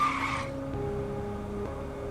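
A car's tyres screech briefly as it brakes hard to a stop. A steady low engine hum with tonal whine follows once the skid ends.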